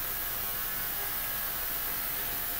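An ultrasonic cleaner runs in a workbench setting during a MacBook Air A1466 coffee-spill repair, giving a steady, loud broadband hum and hiss that stays constant for the whole stretch, with no one talking.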